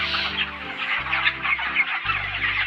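Broiler chickens packed in a poultry farm shed, a dense, continuous chorus of clucking and chirping from many birds close by, with a low steady hum running underneath.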